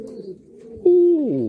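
A pigeon coos from close by, a single soft throaty call that swells and then slides downward at the end, with a low murmur beneath.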